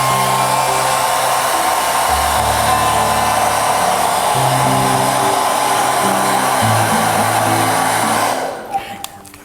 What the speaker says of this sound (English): So I'm going to crackle this now using the hairdryer.